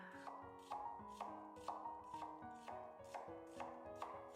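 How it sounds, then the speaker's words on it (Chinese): A knife chops half an onion into strips on a cutting board, sounding as a steady run of crisp, evenly spaced thuds, about two per second, close and clear with nothing else over them. "半个洋葱先横着给它切成条"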